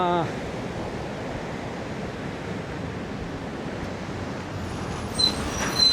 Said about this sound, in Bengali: এই দেখুন কীভাবে জল পড়ছে।